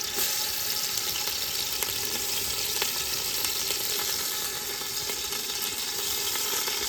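Onion sizzles continuously in hot oil in a pan for a prawn curry, a dense, even crackle with occasional sharp pops and faint stirring scrapes, with no voices.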